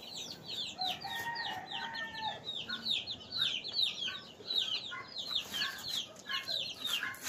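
Hens in a gamefowl coop cluck in quick, overlapping bursts, fairly faint and continuous, with a few longer drawn-out calls among the chatter.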